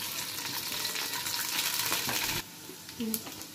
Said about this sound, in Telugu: కొద్దిగా జీలకర్ర, వెల్లుల్లి, ఎండుమిర్చి, కొంచెం కరివేపాకు అన్నీ వేసుకుని బాగా వేయించుకున్నాము.